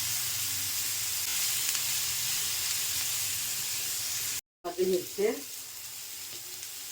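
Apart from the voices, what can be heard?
onions frying in a pan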